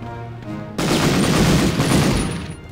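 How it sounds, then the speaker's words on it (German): Gunfire in the Medal of Honor video game: a sharp burst of rapid shots begins abruptly and rattles on loudly for around two seconds, without any talk over it. "Ich sollte aufhören, so viel daneben zu schießen."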